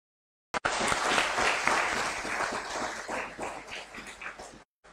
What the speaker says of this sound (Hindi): उसका जवाब तालियों में दीजिएगा